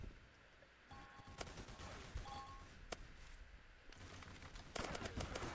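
Turrets fire in the Polyguns video game, bursts of rapid crackling gunfire with sharp cracks, quieter in the middle and then a loud close volley near the end, with electronic beeping tones between.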